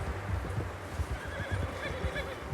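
A horse in Red Dead Redemption 2 whinnies loudly amid clip-clopping hooves and shuffling movement, the neighs rising in a few high calls over the steady hoofbeats.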